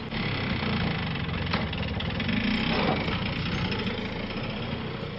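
A tractor engine runs at a steady idle in rural Punjab, a continuous low, rumbling drone with a faint knocking texture that stays even and moderately close, with no talking.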